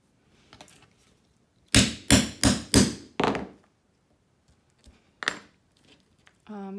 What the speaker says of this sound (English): We're gonna punch a hole. And go through all those layers.